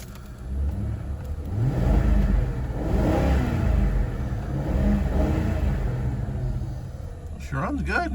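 Steady rumbling idle of an old car engine heard close from inside the cabin, with small rises and dips in revs throughout, and a brief voice near the end.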